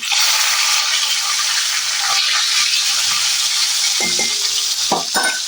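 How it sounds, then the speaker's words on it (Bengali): Chicken frying in a pan at home, loud constant sizzle with stirring and a few sharp metallic clinks of utensil against pan near the end, no talk. "আর এদিকে আমি রুটির চিকেন এখন ফ্রাই করছি"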